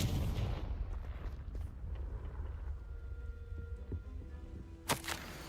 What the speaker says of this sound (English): Levioso! Expelliarmus! Confringo!